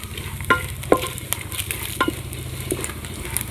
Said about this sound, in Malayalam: അപ്പോൾ തേങ്ങാക്കൊത്തെല്ലാം അമ്മ നെയ്യിൽ വറുത്തെടുക്കലായി